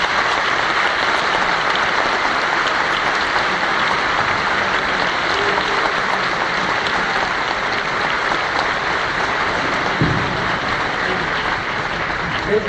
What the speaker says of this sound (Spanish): Un aplauso para Guillermo